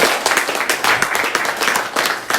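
A church congregation breaks into steady, lively applause, dense clapping filling the space evenly for its whole length, with faint voices mixed underneath.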